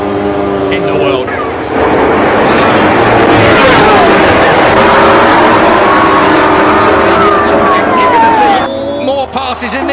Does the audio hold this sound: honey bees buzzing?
no